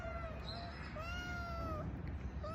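A young white kitten meows repeatedly in thin, drawn-out, rising cries over a steady low background rumble, close to the listener, with no talking.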